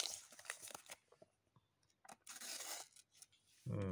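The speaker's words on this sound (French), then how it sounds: "Alors, on va faire le test papier." A worn Buck knife slices through paper in a few quick rasping strokes, close up, with short pauses between cuts and a low thump at the end.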